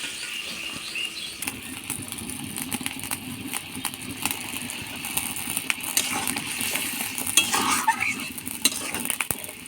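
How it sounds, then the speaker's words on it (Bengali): Pointed gourd, potato and shrimp in hot oil keep up a continuous crackling sizzle, with sharp clicks and scrapes as a spoon stirs the pan, steady and moderately loud. "এবার ঢেলে দেবো পটল আলু আর চিংড়ি মাছ একসাথে ঢেলে দেবো।"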